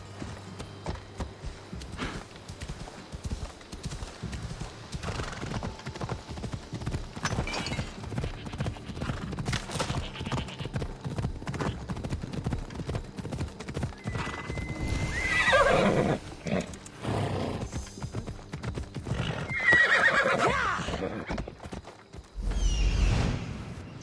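In Assassin's Creed Odyssey, steady hoofbeats clip-clop through a continuous galloping rhythm, with a horse whinnying sharply a couple of times near the end.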